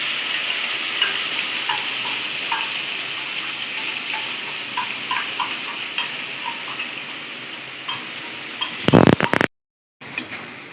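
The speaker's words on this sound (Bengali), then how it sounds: "আমি মশলাটা কষিয়ে নেব" A spice paste of cumin, chili powder, turmeric, ginger paste and sugar fries in a pan for Bengali moong dal, giving a steady close sizzle throughout, with a brief louder clatter near the end followed by a short silence.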